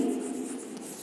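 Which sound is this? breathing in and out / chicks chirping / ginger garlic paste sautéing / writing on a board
writing on a board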